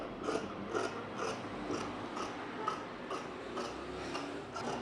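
Scissors snip through fabric for a cape kurti in a steady series of about ten crisp cuts, each a short rasping crunch, close and fairly quiet with no talk.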